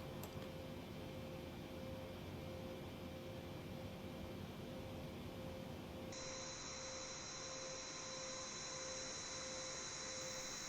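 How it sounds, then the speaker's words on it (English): Auxiliary power unit of a Boeing 787-10 in Microsoft Flight Simulator 2020, humming as a steady, dense whirring drone with a thin high whine that shifts in tone partway through. "I can hear the APU doing its thing, that's sounding great."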